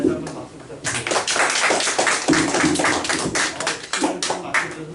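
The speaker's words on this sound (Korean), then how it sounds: "우리 박수정 교수님께 다시 한번 박수 부탁드립니다" Seminar audience applauding, a burst of dense hand clapping that rises and continues at a fairly close, moderate volume with voices mixed in.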